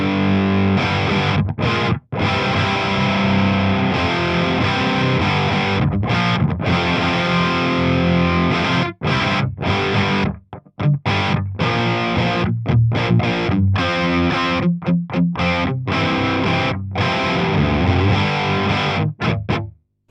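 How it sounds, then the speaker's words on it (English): An electric guitar runs through an amp's channel 3 vintage mode, playing loud, distorted riffs and chords with short choppy pauses between phrases. "There is another vintage mode on channel 3 though, so let's hear that."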